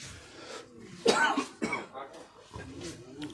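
Several harsh coughs close up, a couple of strong bursts followed by smaller ones and a throat clearing.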